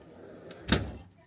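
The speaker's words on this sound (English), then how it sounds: "Let me close the door here." A door shutting onto a deck at a lodging in Hot Springs Village, Arkansas, gives one firm thud with a brief rattle, close by and fairly loud against quiet room tone.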